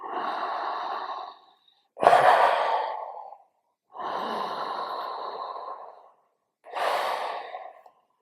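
Slow, deep breathing with long drawn inhales and exhales alternating in four distinct phases, close and clear with pauses of silence between breaths.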